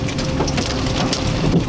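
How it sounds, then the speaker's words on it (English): Baseball-sized hail batters a vehicle during a tornado-producing storm in Illinois, a loud, dense, continuous drumming and rattling of ice on metal and glass close around, with no speech. "Big hail. Baseball-sized hail."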